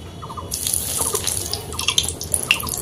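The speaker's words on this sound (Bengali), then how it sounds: "100 গ্রাম বাদাম একই তেলের মধ্যে ভেজে নিচ্ছি।" About 100 grams of peanuts frying in oil, reused after frying chana dal, giving a steady close crackle and sizzle with brief bright pops scattered throughout, no voices.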